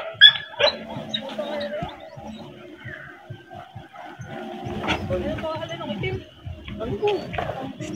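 Dogs whimper and yip in short, irregular bursts, with people talking over them throughout and rustling movement nearby.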